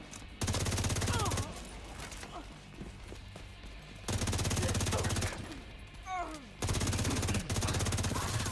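Gunfire in The Division 2 video game, repeated bursts of rapid automatic shots in three loud stretches separated by quieter gaps with a voice talking over the action.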